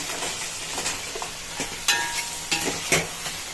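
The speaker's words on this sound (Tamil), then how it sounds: "ஒரு கிளறு கொடுத்துருவோம்" Crab legs sizzling and frying in a pan as they are stirred, with a steady hiss broken by a few sharp scraping and clattering stirs near the end.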